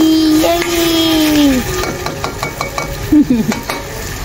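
Squid pieces dropped into hot oily masala gravy in a pan for a Marathi makli dish, with a tonal scrape or squeal early on, then steady sizzling and stirring clinks, no talk.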